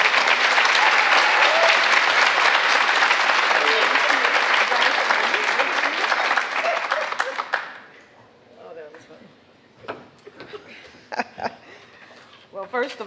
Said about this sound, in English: please give a warm round of applause to Linda Williams